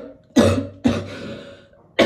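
A woman coughs three times, each a sharp, close, harsh burst with a short rasping tail, spaced under a second apart, with no talk between them.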